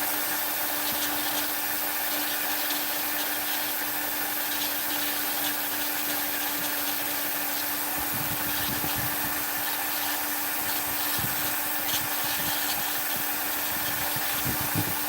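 A rotary tool fitted with fine burrs carves detail into wood for a Knights Templar carving. It gives a steady, continuous whirring grind that holds at an even level throughout.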